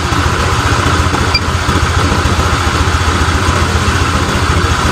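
A Honda Vario 125 scooter with a misfire fault idles close by in a steady low throb, the revs wavering slightly up and down over a few seconds with no talking.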